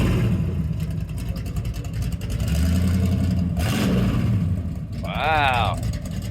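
A 1979 Oldsmobile Hurst Calais W30 engine revs hard with exhaust cutouts open, a raw rumble, while people talk over it and a high whistle-like sweep rises near the end.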